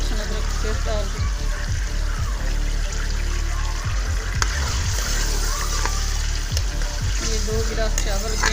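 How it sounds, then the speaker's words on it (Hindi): Garlic ginger paste dropped into about two tablespoons of hot oil, a steady loud sizzle and splatter running continuously with faint clinks of a utensil. "ऑयल हमारा गरम हो गया, मैं ये लहसुन अदरक का पेस्ट डाल दूँ।"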